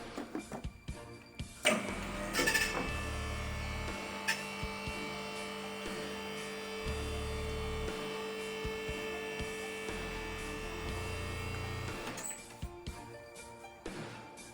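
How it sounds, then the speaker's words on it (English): Vehicle lift ramp raising a Mercedes Vito van in a workshop: a steady electric motor hum with high whine runs for about ten seconds, bracketed by clunks as it starts and stops. "Send the ramp up a bit."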